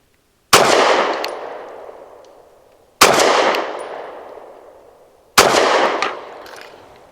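Three loud, sharp pistol shots from a SAR9 SC Gen 3 firing Hornady American Gunner 115 grain rounds, evenly spaced a couple of seconds apart, each cracking close and ringing out in a long fading decay.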